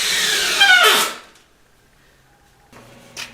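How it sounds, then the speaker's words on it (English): A power drill drives screws into the ends of 2x4 lumber, a close, loud whirring run that bogs and stops after about a second, followed by quiet and a brief second spin-up. "I'm putting 2 screws in the end of each one of these 2x4s."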